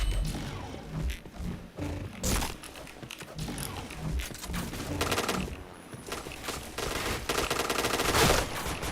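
Dense, loud automatic weapon fire in the shooter game Point Blank, with sustained rattling bursts and crunchy impacts running throughout, voices barely present.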